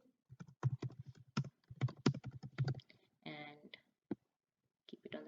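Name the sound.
typing a heading on a computer keyboard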